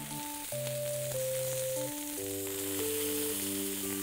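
Vegan cutlets frying in a pan give a steady, close sizzle throughout, with gentle background music playing alongside and no talk.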